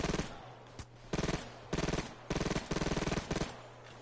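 Bursts of automatic gunfire from a gun in the PayDay heist game: four rapid stuttering volleys spaced about half a second apart, close and loud, with a low hum between them.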